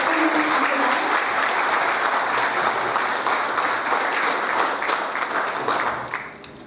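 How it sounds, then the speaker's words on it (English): Steady audience applause fills a corporate conclave hall as a senior executive of a newspaper group is welcomed on stage, a dense wash of clapping that holds loud throughout and then tapers off near the end. "Can we have a round of applause?"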